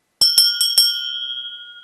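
An old spiežovec cowbell from a folk museum collection is struck four times in quick succession, each bright metallic clang ringing close and clear, then a long sustained tone fades out alone.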